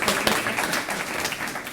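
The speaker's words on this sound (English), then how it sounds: "So how about a round of applause for this guy?" Applause at a Rotary student awards event, a steady crowd of hands clapping together briefly at moderate loudness, with no talk over it.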